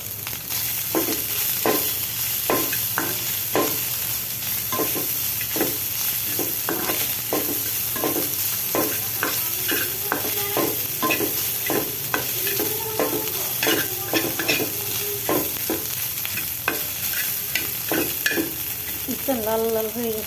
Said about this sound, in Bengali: লাল লাল হয়ে গেছে, মাংস আমার ভাজা হয়ে গেছে প্রায়।